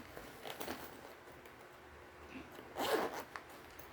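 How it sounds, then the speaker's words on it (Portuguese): A zipper is handled while a bag pocket is being sewn: a few faint, short rasping zips and rustles, quiet and close, with a slightly stronger zip near the end. "já vou pegar aqui o meu zíper e vou trabalhar aqui o meu bolso"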